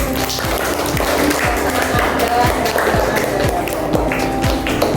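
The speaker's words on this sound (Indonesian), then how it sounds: "Ya, tepuk tangan untuk" A classroom of students claps together, a busy, sustained patter of many hands that keeps going evenly from start to finish.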